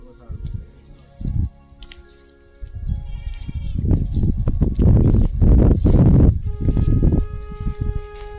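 A herd of goats bleats as it returns to a herders' camp in the high mountain meadows, with several close, overlapping calls that grow denser and louder partway through, over a busy outdoor background.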